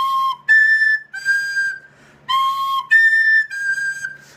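A recorder overblown with too much air pressure gives shrill, piercing squeaks in short bursts, with about six high whistling notes separated by brief gaps, close and loud with no talking.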